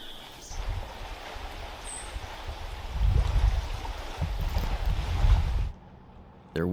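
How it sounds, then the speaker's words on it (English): Low engine rumble of a tour boat passing on open water at Waterton Lakes National Park, building louder then cutting away, over wind and lapping water. "There was a lot of boat traffic on the lake that day, including this tour boat."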